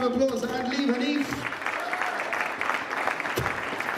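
Audience applause at a year-end newspaper party, a broad wash of clapping under a voice speaking at first, then continuing steadily on its own for several seconds.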